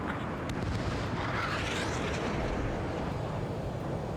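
A missile launches in the Ace Combat 7 flight combat game, a steady roaring rush of rocket and jet noise over continuous aircraft engine drone, moderately loud with no talking.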